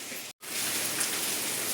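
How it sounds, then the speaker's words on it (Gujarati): Steady rain hisses continuously, broken by a brief dropout near the start, then falling evenly and loudly. "વરસાદ તમને બતાવીએ કેવો વરસાદ આવે છે"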